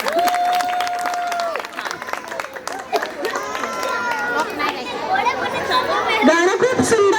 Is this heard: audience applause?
yes